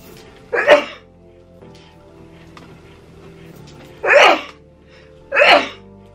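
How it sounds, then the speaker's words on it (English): Three sharp sneezes from a person during a casual clothing try-on, the first alone and the last two close together a few seconds later, each a loud burst against quiet room tone. "Oh, I gotta sneeze."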